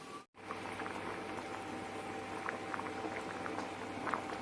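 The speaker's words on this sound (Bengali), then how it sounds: "ডাল সিদ্ধ হচ্ছে, ভাতও ফুটে গেছে।" Red lentil dal with jackfruit boils in a pot on the stove with a steady, soft, close bubbling and faint popping that continues without pause and with no voices.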